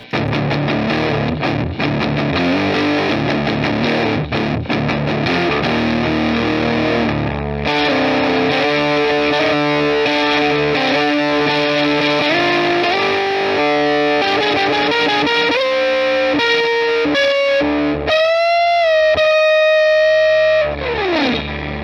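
Heavily distorted electric guitar through a Behringer Heavy Metal HM300 pedal plays a loud, buzzing phrase of chords and notes, ending on a sustained bent note that slides down.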